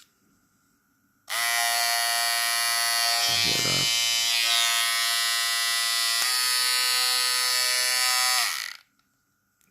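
A Magic Clip trimmer replica (Daling DL 1097) fitted with a Monster Clippers blade runs with a loud, high-pitched electric buzz for several seconds, close by, and a voice speaks briefly over it before it switches off.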